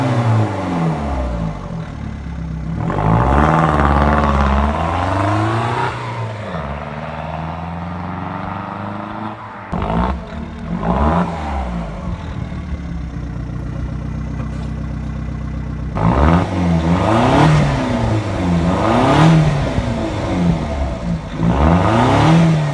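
A 1.7 CDTI diesel Opel Astra H with a modified exhaust revs repeatedly, its loud engine rising and falling in pitch through several blips and longer pulls, with a steady idle between them and no talk.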